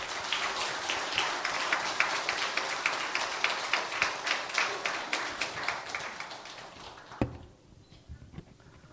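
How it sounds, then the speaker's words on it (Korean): An audience at a church inauguration ceremony gives sustained applause, a dense even patter of many hands with steady rhythmic accents, fading out after about seven seconds before a thump and quiet room. "다시 한번 큰 박수로 모시겠습니다"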